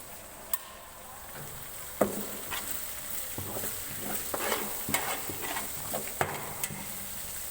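Ginger paste and turmeric fry in hot oil while a spoon stirs them, giving a soft sizzle broken by a run of scraping clicks and taps against the pan, close and fairly quiet.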